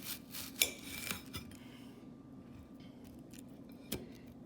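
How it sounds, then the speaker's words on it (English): Knife cutting half an onion in a home kitchen while making squash and cheese casserole, a few sharp clicks and taps of the blade on the board, fairly close, with quieter rustling between strikes. "Now we're gonna cut half of an onion"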